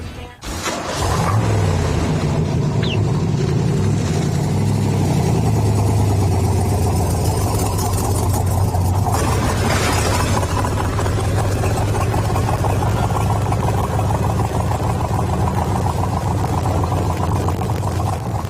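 A 1990 Chevrolet Corvette with fuel injection idles up close, its engine a steady, loud low rumble that swells slightly early on and then holds even and continuous, with no talking.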